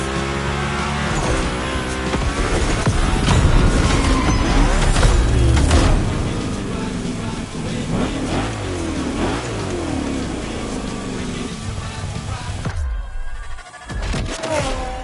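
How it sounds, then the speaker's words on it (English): The V8 of the Hoonicorn 1965 Mustang revs and roars in The Crew, rising and falling loudly with tire noise, peaking in the first seconds before a brief drop near the end. "this monster that spits fire out of its V8. I mean, you are driving the mother of all Mustangs"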